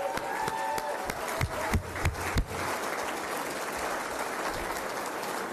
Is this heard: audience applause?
yes